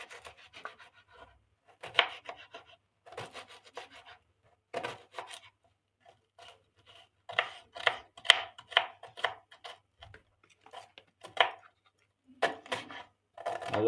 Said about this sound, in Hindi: ये जी प्याज हम चॉप कर रहे हैं जी